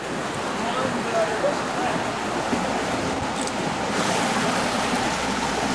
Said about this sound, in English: The top looks like fun, you know, class 2, some big waves